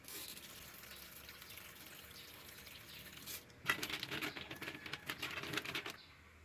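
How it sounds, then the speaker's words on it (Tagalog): Tap water splashes into a bowl of clams soaking in apple cider water, starting suddenly after a quiet stretch and pattering loudly for a few seconds before cutting off. "nilagyan ko na nga ng tubig, nalagpas hanggang umapaw yung tubig sa tulya"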